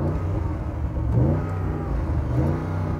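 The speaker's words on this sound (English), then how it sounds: "let's have a listen to the Audi." An Audi RSQ8 V8 rumbles close and steady, rising in two moderate revs over a deep idle, with no talking.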